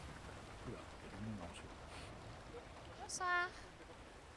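Rain falls steadily as a faint, diffuse hiss, with a brief spoken greeting and a short tonal voice-like sound near the end.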